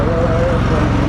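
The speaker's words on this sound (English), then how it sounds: "Here comes the tractor with the little" A tractor towing vintage World War II Stearman primary trainer airplanes at an airshow, heard as a steady, loud, close engine rumble with a pulsing low-end throb throughout.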